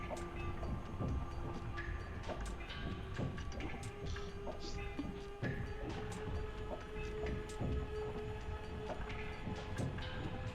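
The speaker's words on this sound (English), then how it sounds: "we need to wait for the train" A train rolls past in the video game Woven, a steady rumble with rhythmic clattering wheel clicks and sustained tonal whistle-like hums, faint and continuous with no talk.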